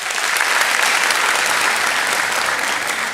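A church congregation at a Sunday afternoon service applauds two speakers: a dense, loud, steady wash of clapping that holds evenly throughout with no voices over it.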